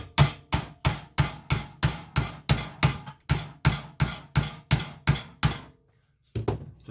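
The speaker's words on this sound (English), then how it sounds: "you're going to need to hammer that ring until it basically clips into place" A Badger 500 garbage disposal mounting ring is hammered into place under a sink. About fifteen sharp, evenly spaced metallic blows land close and loud, then stop briefly before one more strike.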